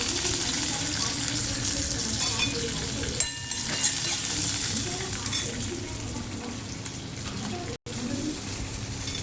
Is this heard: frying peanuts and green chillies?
yes